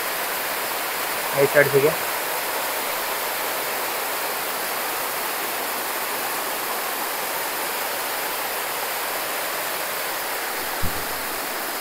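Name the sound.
water rushing down fast at a waterfall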